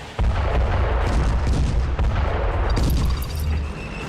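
An Indian Army T-90 Bhishma tank firing: a loud, continuous barrage of heavy booming blasts that rolls on without pause, with no voices.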